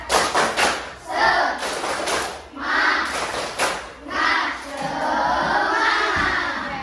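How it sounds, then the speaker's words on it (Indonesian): A classroom of children does a rhythmic clapping chant, claps ringing in quick patterned bursts mixed with their voices chanting together, loud and close. "Kita tepuk semangat dulu ya"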